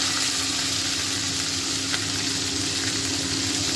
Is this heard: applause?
no